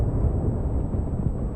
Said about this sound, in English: Oh, damn explosions though